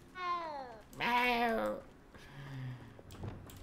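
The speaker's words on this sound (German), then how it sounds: "Jetzt kommt wieder dieses komische Miau-Geräusch." A cat meows inside the video game Hogwarts Legacy, giving two clear, drawn-out synthetic meows followed by a softer, lower third call, close and loud with no talk over them.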